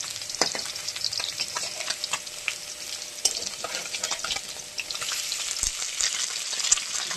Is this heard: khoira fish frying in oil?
yes